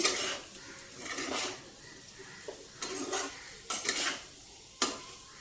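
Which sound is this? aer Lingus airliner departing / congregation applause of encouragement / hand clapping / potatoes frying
potatoes frying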